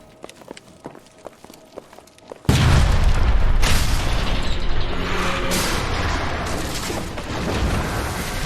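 A sudden, loud video game explosion booms after a few seconds of quiet clicking and mechanical ticks. A heavy roaring rumble follows and stays dense, with scattered debris and crackle continuing afterward.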